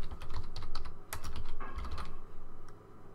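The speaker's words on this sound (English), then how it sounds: "Wow, I'm quick at typing." Fast keystrokes on a computer keyboard during a Minecraft session, close and clear, clattering in quick bursts that thin out toward the end, with no one speaking.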